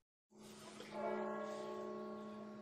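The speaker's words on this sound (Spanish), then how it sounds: "Y luego las tres campanas a la vez también se tocan desde arriba." Church bells ringing together from above, a loud clang that swells into a long sustained metallic hum with several ringing tones fading slowly.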